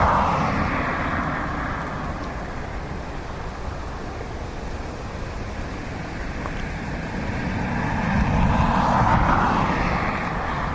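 A jet airliner's engines roar steadily while landing in a crosswind at Dublin Airport, a broad continuous rumble heard from a distance that swells slightly toward the end, with no voices.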